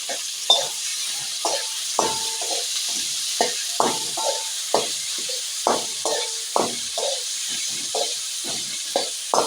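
Chopped onion and tomato with salt sauté in a pan, a low hiss beneath repeated, fairly regular scraping strokes of a spoon stirring, close and clear.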